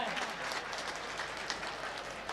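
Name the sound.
applause welcoming guests at Saraswati Puja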